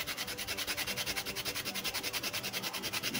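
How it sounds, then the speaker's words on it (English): Whole nutmeg rasped over a hand grater into a bowl while making zucchini bread: quick, even scraping strokes repeat steadily and close up, with no talking. "I'm gonna go ahead and grate the nutmeg."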